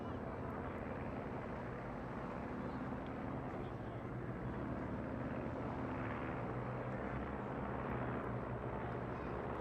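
Stampe biplanes flying in swan formation with smoke at the Eastbourne International Airshow give a faint, steady drone of piston engines that slowly builds, heard from a distance.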